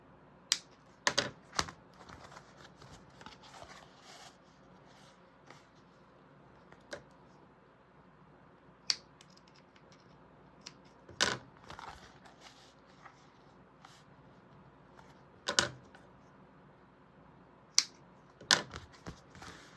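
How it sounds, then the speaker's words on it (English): Scissors make small snips in fabric while a bag is being sewn, giving sparse, faint, sharp clicks at irregular intervals against a quiet room. "Just little snips."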